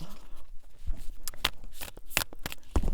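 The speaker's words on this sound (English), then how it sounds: "Let me sage it again and attempt to shuffle it, this big deck." A large tarot card deck being shuffled by hand, giving a few crisp riffling and flicking bursts with soft rustling between them, close and fairly quiet with no talk.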